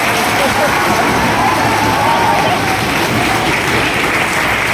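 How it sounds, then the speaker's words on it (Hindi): Loud, dense applause from an audience at a nursing college farewell function, steady and sustained throughout with a broad crowd wash and no pauses. "एक बार जोरदार तालियां हो जाए मेरे सारे पीछे वाले साथियों के लिए"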